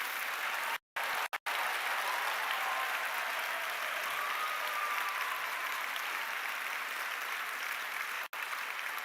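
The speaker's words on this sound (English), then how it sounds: "Let's give everyone another round of applause." Sustained applause from a graduation audience of parents, friends and family at an arts and social sciences ceremony, a steady wash of many hands clapping at moderate level with a few brief dropouts.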